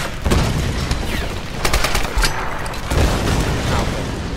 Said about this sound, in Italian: Dio, ho sparato